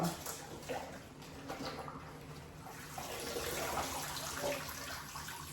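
Leafy greens being swished and rinsed in a bowl of water in a kitchen, a soft steady splashing and trickling heard close up with no talking.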